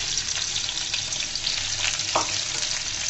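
Onions frying in oil for a spinach curry, a dense continuous close sizzle with a brief stirring scrape, no talk.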